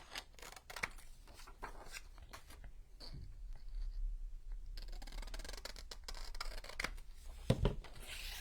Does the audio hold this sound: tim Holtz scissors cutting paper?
yes